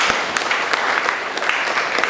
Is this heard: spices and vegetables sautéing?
no